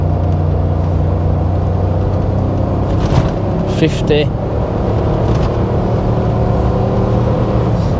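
A Range Rover P38 accelerates with its automatic gearbox in sport mode, holding a steady engine drone from inside the cabin, with road noise throughout and a brief voice partway through.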